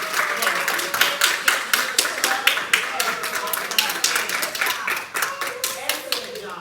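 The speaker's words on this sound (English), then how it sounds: "give our SOAR a round of applause?" Audience at a Zeta Phi Beta Sorority regional gathering breaks into a sustained round of hand clapping, dense and fairly close, with a few voices mixed in as it tapers off.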